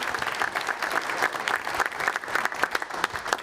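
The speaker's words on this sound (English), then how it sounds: "Give them a round of applause." Lively applause from a small crowd after an Ipswich win, with individual claps audible in an uneven, brisk rhythm over about three and a half seconds and no voices.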